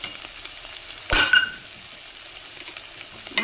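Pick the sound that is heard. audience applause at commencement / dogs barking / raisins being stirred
raisins being stirred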